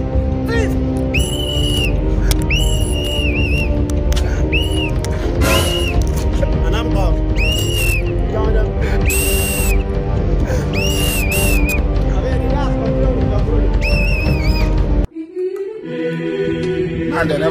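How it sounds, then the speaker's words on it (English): A whistle is blown in repeated short, shrill bursts over a dense, continuous background, with the sound dropping away abruptly near the end. "stop blowing this whistle like this"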